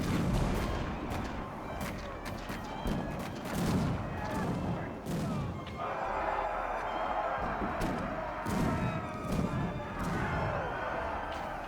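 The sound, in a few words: battle gunfire and artillery in the video game Victoria 3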